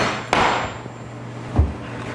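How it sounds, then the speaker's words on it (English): A kitchen knife blade is tapped into a squash, giving two short, sharp knocks about a second apart, close and clear with quiet between. "I've got a blade of a knife and I'm just tapping it into the squash."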